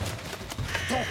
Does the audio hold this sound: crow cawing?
yes